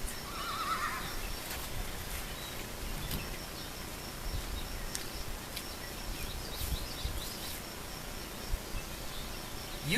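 A donkey brays once, briefly, near the start, then gives way to a steady outdoor bed of chirping crickets and insects, with no talk.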